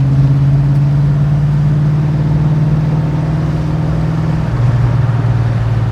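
A 1969 Pontiac GTO with a Tremec manual transmission drones loudly from the cabin under acceleration, its engine note holding steady. After several seconds the pitch drops at a gear shift and the car keeps pulling.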